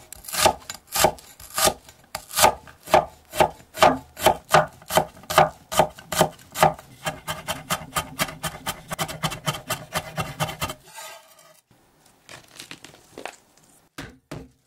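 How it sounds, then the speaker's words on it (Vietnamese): A knife mincing 15 g of shallots on a cutting board, rapid regular chopping thuds close by that slow, then stop after about eleven seconds, followed by a few scattered light taps. "15g hành tím này mình băm nhuyễn nha."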